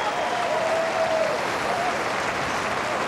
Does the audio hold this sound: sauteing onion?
no